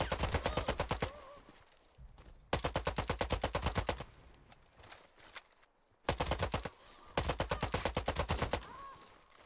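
Rifle fire in the video game Warface comes in rapid automatic bursts, four loud volleys of close rounds separated by short pauses.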